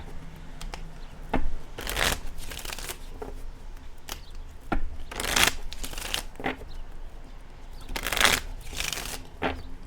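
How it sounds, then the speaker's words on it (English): Tarot cards being shuffled in repeated riffling bursts, each a crisp papery flutter, separated by quieter handling sounds in a calm, close setting. "I always like to shuffle on camera"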